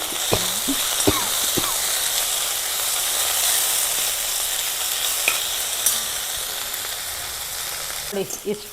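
Garlic, coriander and tamarind fry in a pan in a steady close sizzle, broken by a few sharp scrapes and clinks of a spatula, with a louder clatter of stirring near the end.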